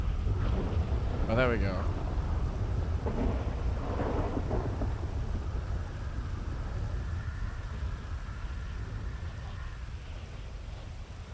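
A thunderstorm in the GTA RP game rolls out deep rumbling thunder over a steady wash of rain. Someone speaks briefly over the storm early on.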